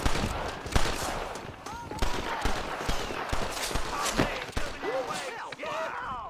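Gunshots ring out in a Red Dead Redemption shootout, a string of sharp, close reports spaced irregularly over game ambience, with voices talking in between.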